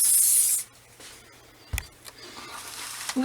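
A short spray burst of fixative misted onto a decorated journal page, a brief hissing puff at close range followed by quiet handling and small taps.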